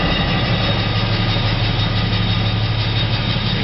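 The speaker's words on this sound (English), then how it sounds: "This is it machining the inlet valve cage cover face." A machining machine cuts the inlet valve cage cover face of a cylinder head, giving a loud, steady, dense mechanical drone with a low hum and no pauses.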